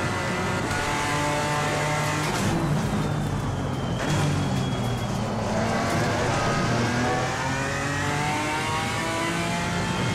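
Race car engines roar continuously through a lap at Zolder in Assetto Corsa Competizione, loud and close, rising and falling as the cars accelerate and shift.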